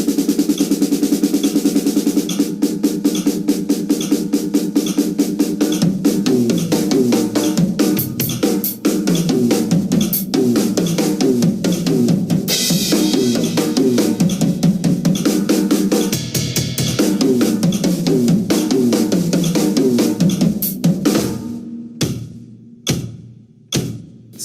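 A drum kit plays a dense, steady 32nd-note subdivision accenting the offbeat notes, loud and driving throughout, then breaks into a few sparse, isolated hits at the end.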